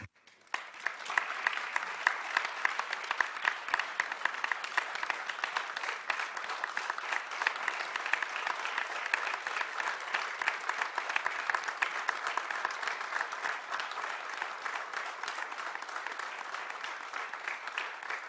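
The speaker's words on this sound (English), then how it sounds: "I'm going to ask you to join me in applause one more time to send off Ambassador Perera" Sustained applause from a meeting audience sending off Ambassador Rohan Perera, steady and even clapping that lasts throughout without pauses.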